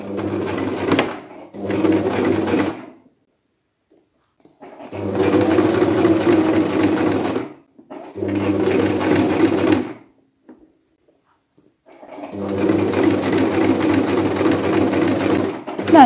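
A sewing machine stitches a fabric scrunchie in several runs: four bursts of rapid, close, loud stitching separated by pauses of near silence.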